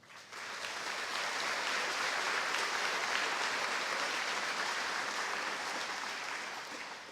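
A graduation audience applauds an honored student, a broad, even roar of clapping that swells in quickly and holds steady for several seconds before tapering slightly.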